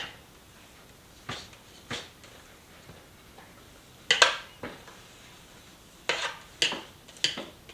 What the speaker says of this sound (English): So I'm just going to try to get it off the walls of the mixing bowl.